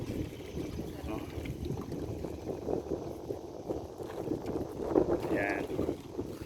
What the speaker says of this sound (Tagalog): So, maraming bangka, no?